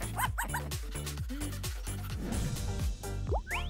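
A dog gives a rapid series of close, repeated barks and yips, then shifts into higher whimpering whines toward the end, loud and continuous throughout.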